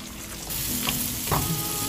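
Chopped onion frying in butter in a pan, a steady close sizzle running through the whole short stretch with a couple of brief stirring scrapes, no voices.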